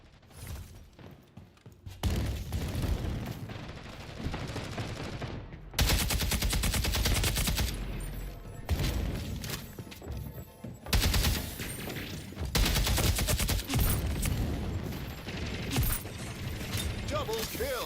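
Dense rapid gunfire and mechanical weapon clatter from the online shooter Splitgate 2, sustained loud bursts filling nearly the whole stretch after a quieter opening, with in-game effects layered over it.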